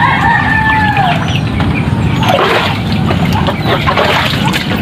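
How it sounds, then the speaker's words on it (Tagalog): Chickens and a rooster at flooded backyard coops during heavy monsoon rain, the rooster crowing over steady clucking, all set against a constant wash of rain and water noise with no voices. "Bawa yung mga manok ko."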